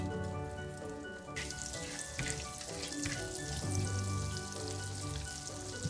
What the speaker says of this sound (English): Into the butter I am going to add the cardamom, cloves, cinnamon and bay leaf.